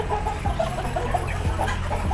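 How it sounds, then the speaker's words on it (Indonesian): Chickens on a poultry farm raising feed animals, several birds clucking and murmuring steadily at moderate distance over a continuous low farmyard hum, with no talk. "Ini another ayam."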